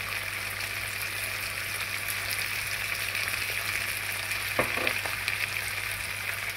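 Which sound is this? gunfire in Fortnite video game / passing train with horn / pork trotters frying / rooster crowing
pork trotters frying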